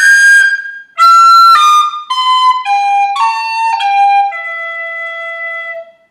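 A tin whistle plays the full phrase of the Irish tune Scatter the Mud, a run of clear, bright, close notes stepping downward, with one short break near the start and a long final note that fades out.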